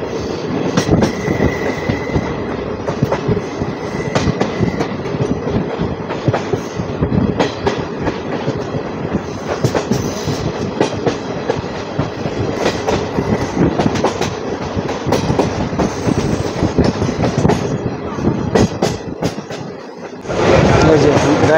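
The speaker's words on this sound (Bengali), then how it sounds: "এই যে বাঁক নিচ্ছে ট্রেন।" Agartala–Karimganj DEMU train rolling through a curve, a loud continuous rumble with rhythmic clickety-clack of wheels on rail joints and faint wheel squeal, heard close from inside near the door.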